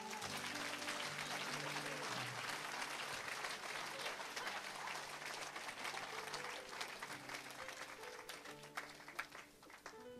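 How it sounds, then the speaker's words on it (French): A church congregation claps and cheers together in a dense, sustained burst of applause that stays strong throughout and thins slightly near the end, with voices mixed into the crowd. "On acclame Jésus."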